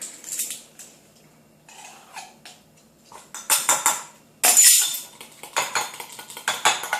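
A spoon stirs raisin bread batter with cinnamon and baking powder in a mug, giving intermittent clinks and scrapes against the sides in short bursts, close and fairly loud, with quiet pauses between.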